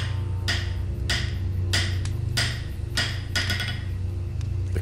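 Metal hammer strikes on a cog in the video game Tesla Effect, about six loud, evenly spaced clanging hits over a steady low game hum.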